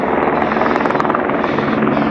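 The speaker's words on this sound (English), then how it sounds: "somewhere there we have a helicopter" A helicopter flies over the Stockholm archipelago on a summer morning, its steady, loud rotor chop and engine roar filling the air continuously without pause.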